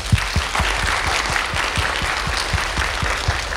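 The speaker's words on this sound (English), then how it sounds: "let's thank Thomas again with a round of applause" Audience at a cybersecurity conference gives a steady round of applause, a dense wash of many hands clapping close by with a few louder individual claps, no talk over it.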